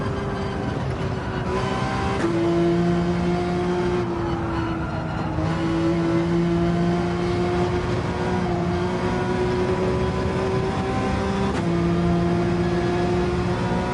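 A Toyota Supra racing engine in Gran Turismo 7 drones steadily with a strong tonal whine, shifting pitch in distinct steps as it changes gears and accelerates, loud and continuous throughout.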